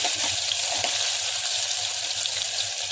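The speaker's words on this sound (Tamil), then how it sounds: "லைட்டாக வெங்காயம் வதங்கணும்." Shallots and curry leaves sizzle steadily in hot oil with mustard seeds and asafoetida for a sambar, a close, continuous bright crackle with faint stirring underneath.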